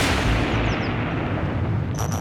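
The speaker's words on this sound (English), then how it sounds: "it was just a power station that blew up" Electrical substation in South St. Petersburg exploding from a technical malfunction: a continuous loud, broadband roaring rumble fills the whole stretch, with a few faint higher whistling tones near the end.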